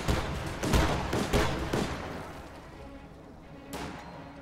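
Rainbow Six match gunfire: several loud sharp shots with reverberant tails in the first two seconds, which fit a sniper rifle crit, followed by a quieter stretch and one more crack near the end. No voices are heard.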